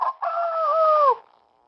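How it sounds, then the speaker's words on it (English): A single rooster crow sounds for an animal-sounds game for children, one clear rising-and-falling call of about a second that tails off quickly. It is heard alone, with no talk. "When you see a rooster, make the rooster sound."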